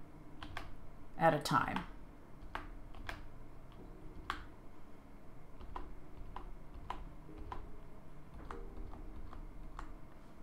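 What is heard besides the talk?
computer keyboard keys being pressed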